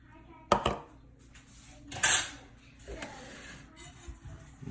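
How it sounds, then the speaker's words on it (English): A pastry cutter lifted out of a bowl of biscuit dough makes a couple of bright metallic clanks against the bowl, followed by softer scraping knocks. "remove our pastry cutter"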